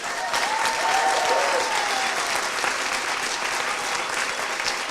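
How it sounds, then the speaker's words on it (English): Warm, sustained applause from a seated audience at a retirement tea party, honouring culinary students who prepared and served the feast; dense, even clapping throughout with no pauses. "hearty round of applause for our students who prepared and served this wonderful feast"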